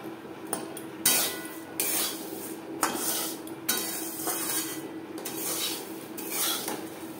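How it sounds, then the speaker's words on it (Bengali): A metal spatula stirs spiced flattened rice (chire bhaja) in a pan with the gas flame off, giving a continuous close scraping and rustling with occasional clinks against the pan and no talk. "খুন্তি দিয়ে আমি নাড়াচাড়া করছি মেশাবার সুবিধার জন্য।"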